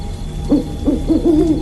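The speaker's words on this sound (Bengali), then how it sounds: "প্যাঁচার ডাকেই চমকে উঠলেন" An owl hoots several times in quick succession, fairly close and clear over a steady low background hum.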